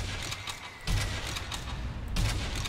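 Enemy gunfire in Sniper Elite V2 during the Brandenburg Gate mission: loud rapid bursts of shots with heavy low thumps, two strong volleys close by over a dense crackling background.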